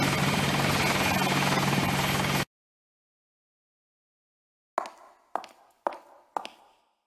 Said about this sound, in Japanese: これって特別祭司機動隊のヘリ